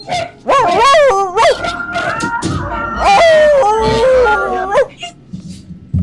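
Several dogs barking and howling close by, with drawn-out wavering howls mixed among sharp barks.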